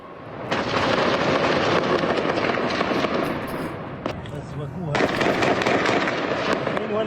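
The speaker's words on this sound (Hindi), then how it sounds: "और जरा आप फायरिंग की आवाज सुनिए।" Gunfire crackles through a clash in Hebron in the West Bank, a dense rapid volley of sharp reports at moderate distance, pausing briefly near the middle before another burst; voices can be heard faintly underneath.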